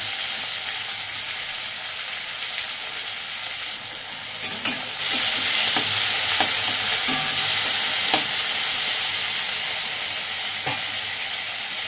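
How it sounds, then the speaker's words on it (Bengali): Chopped tomatoes sizzle steadily in a hot pan for Maggi noodles, with a constant frying hiss and a few sharp stirring clicks and scrapes in the second half; no one talks. "গরম হয়ে গেছে, এরপর এর মধ্যে কেটে রাখা টমেটোগুলো দিয়ে দেবো।"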